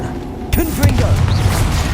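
Confringo blast spell cast in Hogwarts Legacy: a sharp crack at about half a second, then a dense rumbling burst with crackling and whooshing texture, loud and close, with low booming energy persisting to the end.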